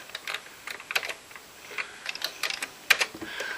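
Keys clacking on a Commodore 64 keyboard, a quick irregular run of close, crisp taps with short pauses, no voices.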